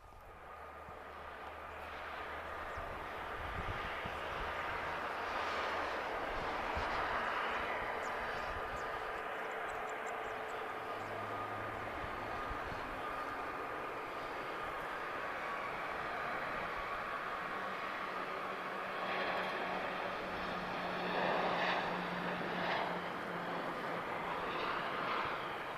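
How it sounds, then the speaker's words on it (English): An Emirates Boeing 777 with GE90-115B engines at Lisbon Airport gives off a broad jet roar that builds and holds as a distant, steady rumble. Faint tonal engine whine rises later, and no voices are heard. "we're going to get the sound of some GE90-115B engines"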